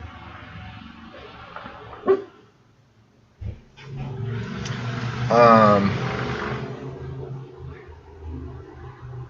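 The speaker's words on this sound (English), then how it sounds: "Lacey, you better quiet that bark, little missy." A small dog barks indoors a couple of times amid low room noise and a speaking voice, with a brief whining or yelping sound in the middle.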